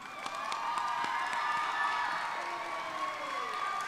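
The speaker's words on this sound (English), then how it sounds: "You can applaud." At a 2021 commencement ceremony, a graduation crowd applauds and cheers for the senior class valedictorian. Steady clapping blends with high shouts and whoops that carry on throughout.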